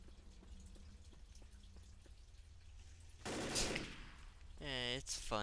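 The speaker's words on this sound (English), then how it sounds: "it's fun shooting zombies." Gunfire from shooting zombies in the Left 4 Dead video game, a short burst of loud shots after quieter in-game ambience, followed by a voice.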